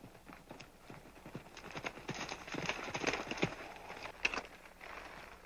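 Horse hooves clip-clop in an uneven trotting rhythm on hard ground, moderately close and growing slightly louder, with no voices over them.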